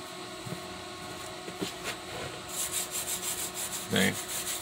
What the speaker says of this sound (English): I gotta keep wiping it off with a wire brush so I can get better welds